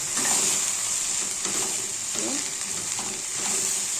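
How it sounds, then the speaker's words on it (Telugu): Okra frying uncovered on a low flame in a pan, a steady soft sizzle running continuously with faint stirring scrapes underneath and no talking. "ఇప్పుడు దీన్ని మూత పెట్టకుండా ఇలా లో ఫ్లేమ్లో ఫ్రై చేయాలి"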